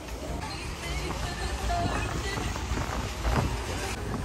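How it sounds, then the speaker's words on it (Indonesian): Strong wind buffets the front deck of a roughly 20-metre yacht, a steady rumbling gusty rush with brief louder swells, and a voice faintly present underneath. "ini dia look depannya tapi anginnya gede banget nih"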